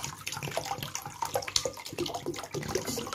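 Water runs and splashes into a container for a chicken soaking brine, a fairly quiet, uneven gurgling stream.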